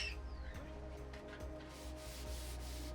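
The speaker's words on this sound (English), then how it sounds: "to get a nice even coat, you can just kind of rub it on like this" A finish coat being rubbed by hand onto a wooden bo staff, a steady close-up rubbing and sanding-like friction that continues evenly throughout, with low hum beneath.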